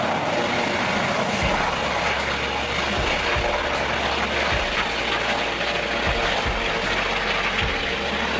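A police patrol helicopter flies overhead, a steady loud engine drone with rhythmic low rotor thumps running throughout.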